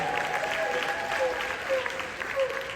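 Audience applause at a mayor's State of the City address, a short burst of clapping from the crowd with a voice speaking over it.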